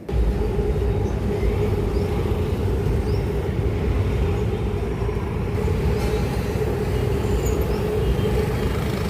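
A train passes at a steady distance in an open outdoor setting, producing a continuous low rumble and wheel noise that holds level for about nine seconds with no voices.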